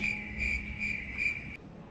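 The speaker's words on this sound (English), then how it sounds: "So what did we find? Crickets." Crickets chirp in a steady, pulsing rhythm, close and fairly loud, with a faint low hum beneath and no other sounds.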